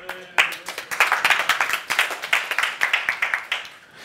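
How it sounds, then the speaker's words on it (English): Audience at a Java user group meetup in New York claps steadily, a dense round of applause from a room of people rising after a brief start and continuing with fairly even loudness before tapering slightly. "Give them a round of applause."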